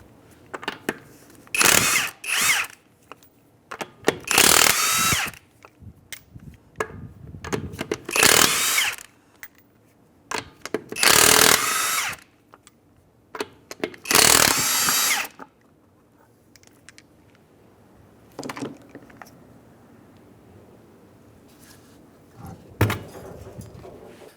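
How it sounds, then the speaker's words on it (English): Power impact tool working on the front wheel lug nuts of a 2007 Mazda CX-9 during brake hose replacement: several loud bursts of whirring and rattling, separated by quiet pauses, clattering, and then a few shorter final bursts. "Alright, we're going to remove our front wheel."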